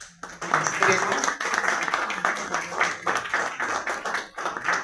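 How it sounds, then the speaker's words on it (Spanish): An audience at a book presentation in a club hall gives sustained applause, dense overlapping claps filling the room at steady loudness for several seconds. "un fuerte aplauso también"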